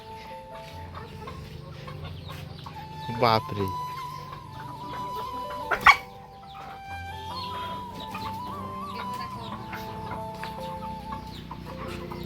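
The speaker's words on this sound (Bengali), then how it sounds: "এগুলো হচ্ছে আমার বন্ধুর সব পোষা মুরগি" Chickens cluck in a steady background chorus while a person speaks briefly; a couple of louder squawks stand out partway through.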